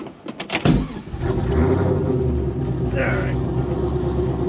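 A Pontiac GTO engine starts after a few sputtering bursts, then settles into a steady, loud, deep rumbling idle close by.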